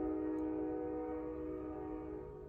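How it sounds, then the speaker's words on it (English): A passing train, its steady horn-like hum lasting through the whole stretch and slowly fading, heard from a distance with no talk over it. "Y'all hear that train?"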